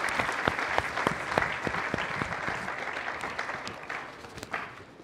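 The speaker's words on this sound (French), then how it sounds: "cette magnifique animation dont je nous demande d'applaudir très" Parish choirs of Notre-Dame des Champs applauded by a congregation at a perpetual profession ceremony, a warm crowd of clapping with distinct individual claps standing out, gradually thinning toward the end.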